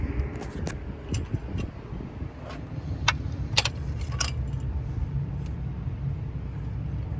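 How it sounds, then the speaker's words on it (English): A wrench loosens a spark plug on a 1991 Honda Accord, giving a scattered run of sharp metallic clinks and ratchet clicks over a low, steady background rumble. The ticks cluster near the start and middle, close and fairly crisp. "Now let's bring out the wrench."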